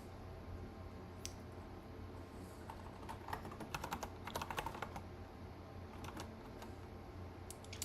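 Steady clicking of keys on a computer keyboard during a coding session, with bursts of faster typing in the middle and scattered single keystrokes, quiet and close against a low background hum.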